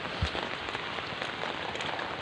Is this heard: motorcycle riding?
no